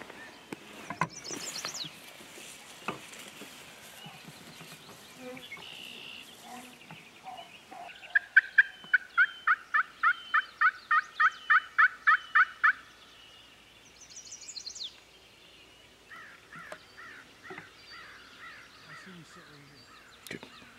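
A wild turkey gobbles on a farm field during a late-season hunt: a loud, rapid run of gobbling notes in the middle, with scattered softer calls and bird sounds before and after.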